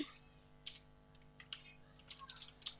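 Fingers type on a computer keyboard while writing text in Microsoft Word, producing quiet, irregular clicking keystrokes that come in short bursts and are heard close up.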